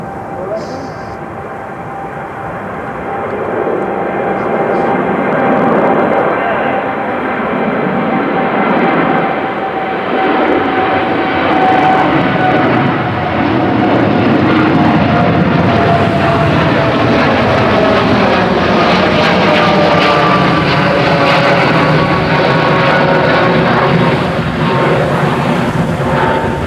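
A Boeing 787-8 jet at a windy Manchester Airport, its engines a loud steady roar with broad rumble that swells and holds throughout, blended with wind, while people talk over it.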